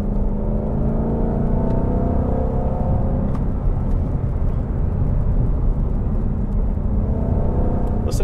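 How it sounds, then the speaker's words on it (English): A 2020 Ford GT500 in track mode downshifts, its engine note a loud, steady close roar and rumble that swells and settles through the gear changes, with no talking. "Listen to these downshifts."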